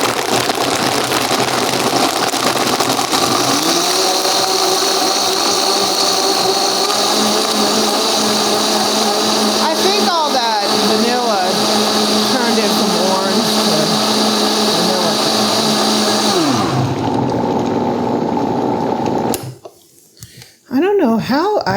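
A Vitamix blender on variable speed crushes ice in a steady, loud, gritty roar for about seventeen seconds, then cuts off abruptly and leaves near silence.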